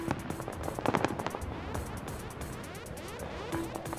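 New Year 2016 fireworks burst over Dubai around its famous tower: a steady run of crackling pops and sharp bangs at middling distance, some spaced out and others rapid, over a continuous rumbling wash.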